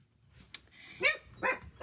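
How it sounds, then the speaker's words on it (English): A dog barks twice in quick succession, two short sharp yaps fairly close, after a brief faint thump. "Papa, he's barking at somebody going out the door."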